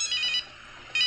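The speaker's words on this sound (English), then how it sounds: "Oh, that's my phone." A mobile phone rings with a bright electronic ringtone in two short bursts separated by a brief pause, clear and close with no talking over it.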